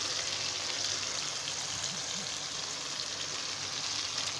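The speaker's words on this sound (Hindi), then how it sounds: "भिंडियों को मैंने बहुत ज़्यादा फ्राई नहीं करना, सिर्फ इन्हें मैंने सॉफ्ट करना है" Okra pieces frying gently in a pan to soften them, a steady soft sizzle and crackle holding at an even level throughout with no talk.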